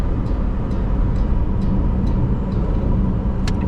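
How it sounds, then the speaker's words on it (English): A Jetour Ice Cream electric car at speed gives a steady, loud broadband road and wind rush with a faint high electric whine, recorded from inside the cabin, with no talking. "What you hear is a whine that sounds like it's straight out of a sci-fi movie."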